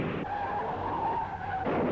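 A 1965 rear-engine Indianapolis race car skids after losing a wheel: a short, steady screech of sliding tires under a loud engine, lasting about two seconds.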